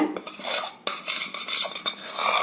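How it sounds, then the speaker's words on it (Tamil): A spatula scrapes and stirs through rice flour dough mixed with sugar syrup in a metal vessel, giving a steady, close series of wet scraping and knocking strokes with brief thuds. "நல்லா இந்த சட்டுவத்துல கலக்கி விடுங்க"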